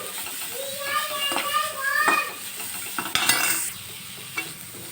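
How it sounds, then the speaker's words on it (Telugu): Ginger and carrot fry lightly in a pan for semiya idli, with a soft sizzle under brisk close stirring and scraping. Voices, including a child's, talk over it. "అందుకోసం అయితే ఇది వేయించుకోవాలి. ఇక్కడ లైట్గా అయితే వేయించుకొని"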